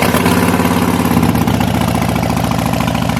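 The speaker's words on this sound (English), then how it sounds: "I'm just doing it because I like to let my bike run. It's a Harley." A Harley-Davidson Sportster motorcycle engine idles loud and close, its steady lumpy low rumble pulsing continuously with no voices over it.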